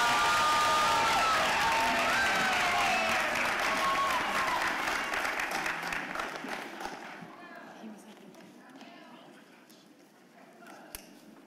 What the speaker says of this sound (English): Another round of applause for the class of 2023.